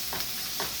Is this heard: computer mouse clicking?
no